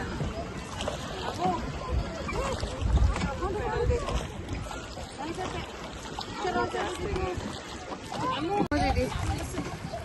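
A motor boat with a driver carries a family across Karanji Lake in Mysore, its engine and water wash rumbling steadily amid wind, with people talking over it throughout.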